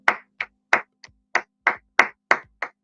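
A single person claps for a guest on a livestream, about nine sharp, close hand claps at a slightly uneven pace, with no talking.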